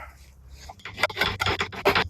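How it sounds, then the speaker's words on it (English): A hand file scrapes across a piece of wood in several quick, close rasping strokes, each stroke rough and uneven in loudness. "I'd be able to do smoother runs with the file"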